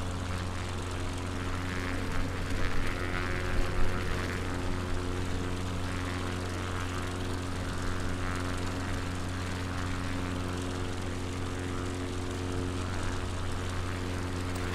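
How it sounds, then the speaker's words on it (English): Light propeller plane in flight on a coastal tour near Balmoral, a steady droning engine hum with strong low tones, even and continuous throughout, no talking. "let's bring the plane down just a little tad"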